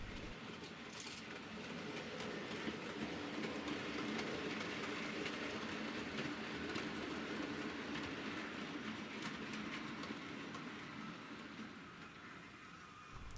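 Rails Terrier model locomotive hauling a heavy model train up an incline on a Christmas tree layout, giving a steady, continuous rumbling rattle of wheels on track with a hiss-like wash over the top throughout, no speech.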